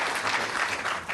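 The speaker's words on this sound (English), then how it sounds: "I want to applaud these guys right now, okay?" Audience applause at a Canadian web media awards event, a steady wash of many hands clapping at moderate level, continuous without a break.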